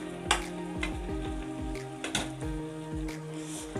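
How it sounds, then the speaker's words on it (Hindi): Tomatoes stirred into sizzling chicken karahi, Peshawari charsi street style: steady frying hiss with repeated scraping stirs and clinks of a utensil against the pan, close and fairly loud, with music playing underneath. "अब मैं टमाटर को इसके अंदर मिक्स कर देता हूँ"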